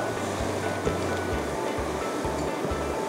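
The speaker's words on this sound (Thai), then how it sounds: "ตอนนี้น้ำก็เริ่มเดือดแล้วนะคะ" A pot of water with vegetables starting to boil for a Thai noodle dish gives a steady, soft bubbling hiss close by, with a low rumbling undertone throughout.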